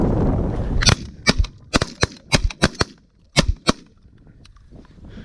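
Shotgun blasts during a goose hunt over a decoy spread, about a dozen sharp reports in quick irregular bursts, some close and loud, a few fainter distant ones, with no talking between them.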